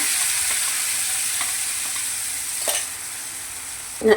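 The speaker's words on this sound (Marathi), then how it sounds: "एक मिनटं याला परतून घ्यायचं आहे" A spinach and coriander paste stir-fried in a pan, with a steady broadband sizzle throughout, a few faint spatula scrapes, and a louder clatter right at the end.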